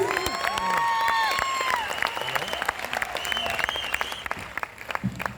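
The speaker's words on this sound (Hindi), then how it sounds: "एक बार फिर से जोरदार तालियां" A large audience applauds after a comedy poetry performance, steady loud clapping with some cheering that fades slightly toward the end, and a voice speaks over it.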